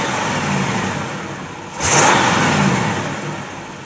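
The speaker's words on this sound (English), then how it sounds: "Nice strong rebuilt motor in this classic Cadillac V8." The rebuilt V8 in a 1964 Cadillac convertible runs close up, holding a smooth idle before a sudden strong rev that swells and slowly settles back down.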